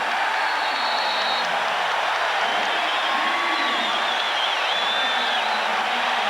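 A Denver Nuggets home arena crowd in the 1992-93 season roaring after a Dikembe Mutombo dunk, a loud, sustained wall of cheering and applause filling the building, with faint voices within it.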